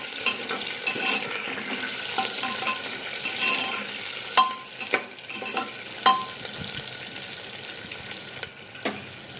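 Curry leaves, a green chilli and chopped onion sizzle in hot oil for wheat rava upma, with steady frying hiss broken by several sharp scrapes and clacks of a spoon stirring the pan.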